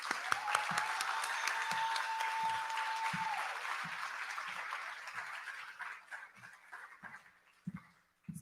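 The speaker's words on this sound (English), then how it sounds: "Now clap for yourself." Gala audience clapping for themselves at a celebration event, steady applause that gradually thins and fades out near the end, with a faint sustained tone early on and a few stray claps trailing off.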